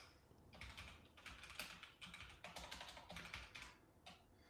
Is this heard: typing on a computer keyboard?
yes